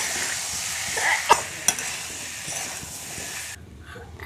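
Elephant foot yam being stir-fried in a pan, a steady soft sizzle with a few sharp scraping clicks of a spatula stirring, close and moderately quiet, dropping away near the end.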